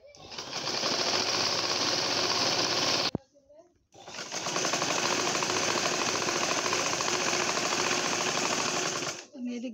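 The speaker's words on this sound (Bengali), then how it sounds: "এখন আমি কুচির কাপড়টা সেলাই করে নিচ দিয়ে সেলাই করে নিব।" An electric sewing machine stitches frill cloth for a round baby frock, running in a loud, close, continuous mechanical whir for about three seconds, pausing briefly, then running again steadily for several more seconds.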